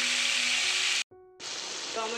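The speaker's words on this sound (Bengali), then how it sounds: "পাঁচফোড়নগুলো যখন এইভাবে ফুটে আসবে" Panch phoron five-spice seeds splutter and crackle in hot oil, a steady loud sizzle that cuts out briefly midway, then resumes as a voice speaks over it.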